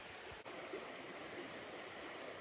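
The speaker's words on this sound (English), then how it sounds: "Pretty little creek." A small creek along the Appalachian Trail babbles in a soft, continuous wash of water, faint and steady with one brief dip and no talking.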